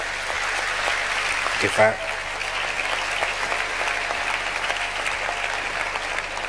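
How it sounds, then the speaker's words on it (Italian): An audience at an Italian book presentation applauds steadily throughout, with a dense, even clapping texture and a brief voice heard partway through. "qui tra noi lo salutiamo con un applauso per questa nuova offerta"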